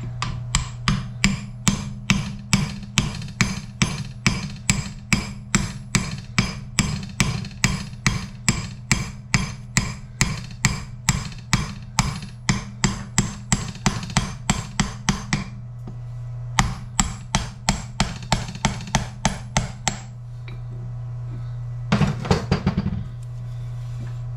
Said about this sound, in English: Just took a socket that's about the same size as the inner race, and it should drive out pretty easily.